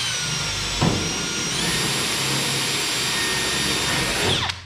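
A power drill bores a 1/8 inch hole in the rear apron of a VW Beetle, making a steady, close whine that climbs in pitch partway through and then winds down at the end.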